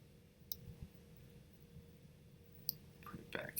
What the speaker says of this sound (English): I'm holding the Command key down while I'm clicking and dragging.